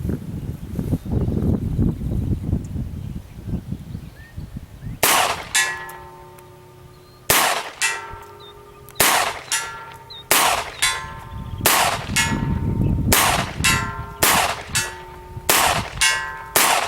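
A Colt Woodsman 6-inch target pistol fires about nine sharp shots at a 100-yard target outdoors, each crack followed by a ringing metallic clang, spaced roughly a second or two apart.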